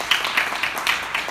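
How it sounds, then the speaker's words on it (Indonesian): A church congregation claps together in praise at a worship service, a steady run of sharp, fairly close hand claps in loose rhythm. "Kasih tepuk tangan dulu buat Tuhan"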